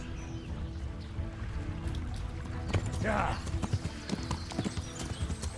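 Horse hooves clip-clopping in a hardcore survival-style video game, a steady run of hoof beats with a brief whinny-like burst in the middle, fairly close and clear over a low background hum.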